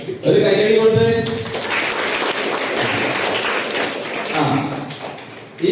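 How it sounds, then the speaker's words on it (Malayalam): Children clap together during a Mass for children at Holy Cross Church, Muttada: a brief spoken voice first, then a sustained round of dense applause filling the room for several seconds. "3 കൊടുത്ത് ഒരു കൈയടി കൊടുത്ത്."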